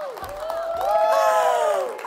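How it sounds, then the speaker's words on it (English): A studio audience cheers and whoops, with a rising, lively swell of voices and scattered clapping lasting about two seconds. "Did somebody pay you to clap after that?"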